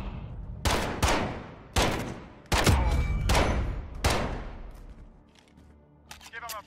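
Gunfire in a Call of Duty: Modern Warfare match, about six loud close shots or short bursts at irregular intervals, each ringing out with a decaying tail, followed by fainter clatter at the end.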